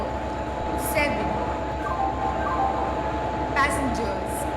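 A Rajdhani Express train runs in the Indian Train Simulator game, its steady rumble and rolling wheel noise continuous throughout, with a few brief high squeals over the top and a voice talking in the background.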